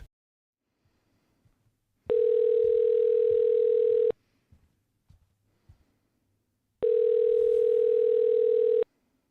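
Two long flat electronic tones, each about two seconds, separated by a quiet gap with faint clicks, a telephone network error signal.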